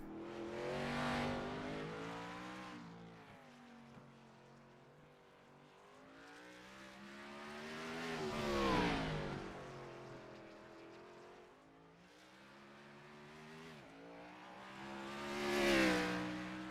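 Race cars in qualifying on the Long Beach street circuit pass one after another, each swelling from faint to a loud revving sweep and fading away in three distinct pass-bys.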